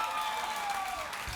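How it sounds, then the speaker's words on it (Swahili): Brief burst of audience applause on a talk show, dense clapping with a faint tone and crowd murmur underneath, steady for about a second. "Jipigieni makofi wale waliohesabiwa"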